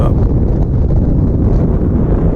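Steady wind buffeting the microphone while riding a 2019 Kawasaki Vulcan S ABS motorcycle on a ride to Fort Island Gulf Beach, a loud, constant low rumble with no talk.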